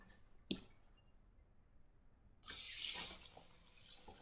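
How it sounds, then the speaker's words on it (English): Water runs from a kitchen tap over zucchini being rinsed in the sink, a steady splashing rush that starts after a brief clatter and keeps going to the end, close and fairly loud. "let's rinse it one more time"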